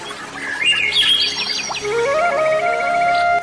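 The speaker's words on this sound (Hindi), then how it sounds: "पक्षियों के चहचहाने की आवाज जंगल में गूंज रही है।" Several birds chirp and trill in a forest in overlapping, rising and falling tweets, steady and fairly close, with a soft background hum and no talking.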